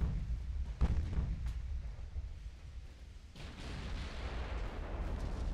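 A 14-inch naval gun shell striking a ship's stern in Ultimate Admiral: Dreadnoughts, a deep booming impact followed by a low rumbling roar and a second surge of heavy blast noise.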